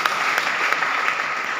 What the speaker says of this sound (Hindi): समीर सर के लिए जोरदार तालियां उनकी।